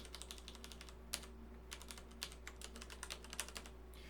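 Quiet, irregular clicking of keys on a computer keyboard during a programming session in Racket, with a steady low electrical hum underneath and no talk.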